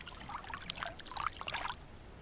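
Lake water trickles and splashes softly as a caught fish is held in the water so it runs over its gills, faint light gurgling under quiet outdoor ambience.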